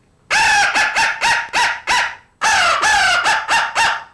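A turkey hunter's crow call imitates crow caws in two loud, close bursts of rapid, harsh calls: five caws, a short pause, then five more.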